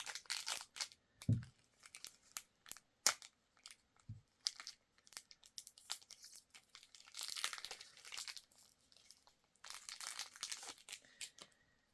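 Close, quiet crinkling and tearing of plastic packaging as a saxophone reed is unwrapped, in irregular bursts of rustles and small crunches spread over several seconds, with no speech.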